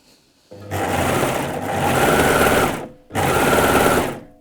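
A BabyLock Ovation serger stitches organza ribbon in two loud bursts of rapid, even whirring, the first longer with a brief slowdown, then a short pause before the second run.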